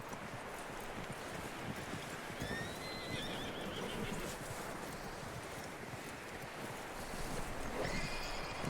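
A horse in Red Dead Redemption 2 whinnies with a few high neighs near the start and middle, while hooves clop and a steady wash of game ambience and wind runs underneath throughout.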